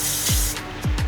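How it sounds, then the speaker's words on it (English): L'Oreal Infallible 3-Second Setting Mist spraying in close, harsh hissing bursts: one long spray, then two quick short pumps, with no one talking. "one last blast of setting spray and then I'm done"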